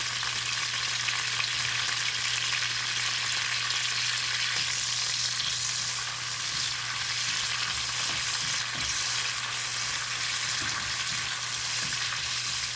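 Catfish frying in hot oil until crispy: a dense, continuous, fairly loud crackling sizzle that holds steady throughout with a faint low hum underneath, no speech.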